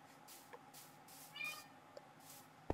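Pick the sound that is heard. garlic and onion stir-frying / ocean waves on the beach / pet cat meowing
pet cat meowing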